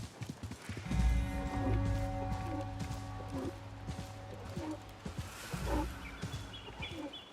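A camel runs in the Assassin's Creed Mirage video game with steady hoof thuds and footfalls under a sustained tonal musical score, with occasional animal grunts.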